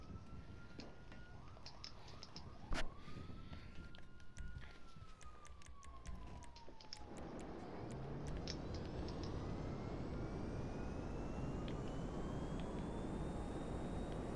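A commandeered aircraft in a video game gives a loud, steady engine roar with a whining tone that sweeps up and down, then settles into a dense, rising rumble that runs to the end.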